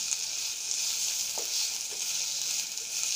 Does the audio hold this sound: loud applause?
no